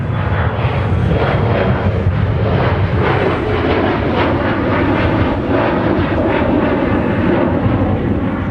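A Sun Country airliner bound for Birmingham moves at Minneapolis–Saint Paul airport, a loud, steady jet engine rumble with a slowly pulsing roar that carries on without pause and without voices.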